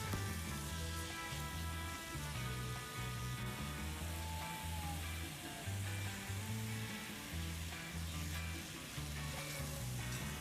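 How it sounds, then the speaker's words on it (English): Shimeji mushrooms and garlic sauté in a hot pan, a continuous close sizzle with light stirring scrapes, steady and moderately loud with no voices. "Now I'm going to saute this for a moment, then add a wee bit of garlic, then in goes those shimeji mushrooms"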